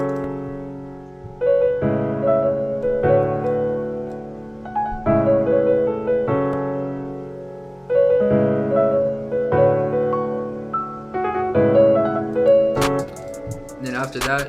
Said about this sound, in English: Alright, so to start, I went ahead and made this piano melody